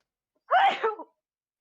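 A single short sneeze bursts out abruptly in a quiet room during a board game session, then silence follows.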